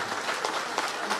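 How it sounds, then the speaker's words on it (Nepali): A crowd at a political party merger rally applauds in a brief, steady wash of clapping with no clear breaks. "जोरदार तालीको साथमा ताली चाहिँ बजाउँदै गर्नु है"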